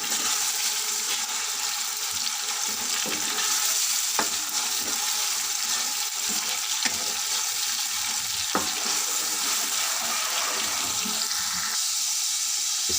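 Garlic and ginger paste frying in oil with browned onions for beef karahi, a steady loud sizzle that runs for the whole stretch with a few faint clinks of stirring.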